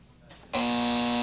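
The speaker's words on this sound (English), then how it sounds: "the buzzer was hitting" A game show buzzer on Sale of the Century blares suddenly after a brief quiet moment, a loud sustained electronic tone that holds steadily to the end.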